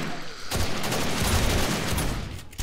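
Rapid .45 ACP gunfire in 7 Days to Die with the War3zuk mod during a horde night: a dense, continuous stream of loud shots with almost no gaps, briefly dropping off near the end.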